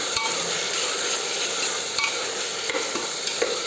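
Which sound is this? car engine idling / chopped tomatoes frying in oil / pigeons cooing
chopped tomatoes frying in oil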